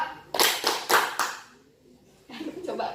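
Hands clap in a counted group clapping exercise for a small guidance group, with about four sharp, fairly loud claps in quick succession, followed by a pause and then a voice speaking.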